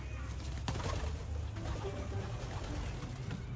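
Pigeons cooing in a loft, soft repeated low coos close by over steady background hiss, with a brief flutter of wings.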